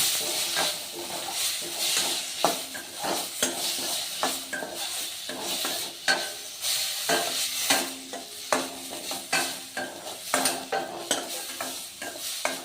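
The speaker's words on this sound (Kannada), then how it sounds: "ಇದಕ್ಕೆ ನಾನು ಟೊಮೊಟೊನೂ ಆ್ಯಡ್ ಮಾಡಿ ಎರಡು ಮಿಕ್ಸ್ ಮಾಡಿ ಫ್ರೈ ಮಾಡ್ಕೊರಿ." Tomato and okra frying together in a pan for okra chutney, steady sizzling with frequent spoon stirs and scrapes against the pan, close and rhythmic over the whole stretch.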